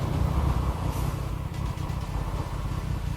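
A Triumph Street Triple motorcycle fitted with an SP Engineering exhaust rumbles steadily up close, a deep continuous engine burble with no talking.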